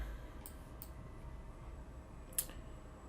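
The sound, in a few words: mouse click in Inventor software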